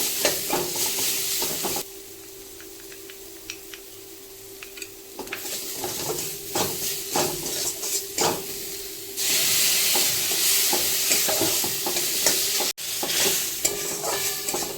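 Fish curry sautéing in a pan with turmeric, chili and tomato, a loud continuous sizzle and hiss with repeated stirring scrapes, swelling louder partway through, no voices.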